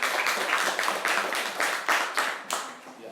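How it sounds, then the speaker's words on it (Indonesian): Classroom students clapping in rhythmic bursts, a group of children's hands beating out several rounds of patterned claps, loud and close, with no talk. "Tepuk tangan dulu ya."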